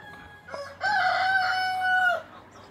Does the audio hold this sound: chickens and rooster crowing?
yes